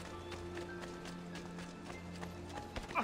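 Horse hooves clip-clop in a faint, quick rhythm in the Assassin's Creed II video game, set against low ambient game sounds.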